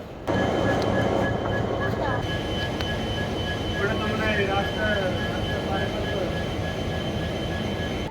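The Darjeeling Mail passenger train, New Jalpaiguri to Sealdah, rumbles steadily throughout, with heavy low-frequency noise and faint metallic squeals, as if heard from on board or close beside the tracks.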